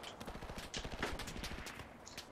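Rapid automatic gunfire in a first-person shooter game, a quick rattling burst of shots heard at low level over a brief span.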